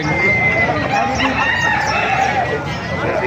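A rooster crows close by while chickens cluck at a market in Calumpit, the calls loud and continuous amid farmyard noise.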